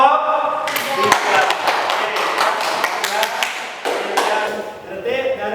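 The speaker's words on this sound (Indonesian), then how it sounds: "terima kasih tepuk tangan untuk kelompok" Classroom applause for a student group, a dense wash of claps lasting several seconds with a brief dip near the end, fairly loud and close, with voices mixed in.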